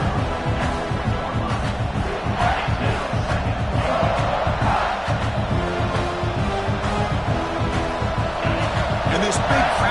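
A big stadium crowd roars at a USC versus Texas college football game near the goal line, a dense, loud, continuous wall of cheering and yelling with an announcer talking over it.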